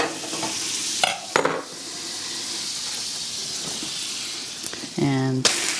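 Butter melting in a hot pan before quesadillas are cooked, with a soft continuous sizzle broken by a few sharp clatters and scrapes.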